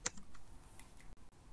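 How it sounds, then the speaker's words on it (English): Someone types on a computer keyboard during a game show, soft sparse clicks and taps, quiet and close with no speech. "As soon as he's done typing."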